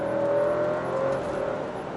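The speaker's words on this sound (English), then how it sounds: "So now we're in manual mode, second gear, third gear." An Alfa Romeo Stelvio Ti Sport accelerates in manual mode, its engine note rising in a steady whirring pull and shifting pitch as a gear changes, heard from inside the cabin.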